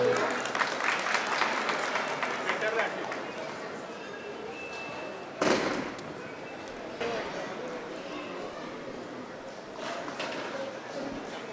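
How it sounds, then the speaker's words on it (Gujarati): Applause from an audience at a Jain community jubilee celebration welcoming a dance performance, a fairly soft, steady wash of clapping with a sharp knock partway through and a brief swell near the end. "તો ચાલો આપણે તાળીઓ સાથે તેનું સ્વાગત નૃત્ય આવકારીએ."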